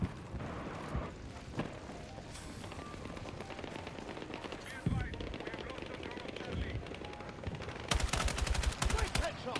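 Gunfire in the first-person shooter Battlefield 6, with bursts of automatic weapon fire and sharp single shots crackling through a busy battlefield mix, growing louder and denser near the end, while players talk over it.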